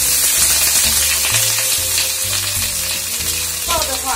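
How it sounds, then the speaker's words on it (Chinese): Fish pan-fries with ginger in a hot wok for a Shanghainese fish soup, giving a loud, steady sizzle and crackle with no voices. "慢慢给它煎，煎透，煎到两面金黄"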